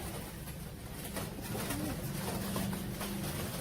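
Pigeons coo softly in short repeated calls against a steady background hum, with no talk heard.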